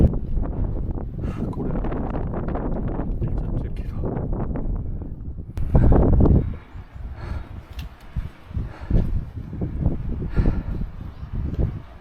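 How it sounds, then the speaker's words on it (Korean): Wind gusts across a mountain summit on an island hike, a heavy low roar buffeting the microphone with shifting bursts and a strong surge midway, with no clear voices over it. "아, 바람이 불어서 좀 쌀쌀합니다."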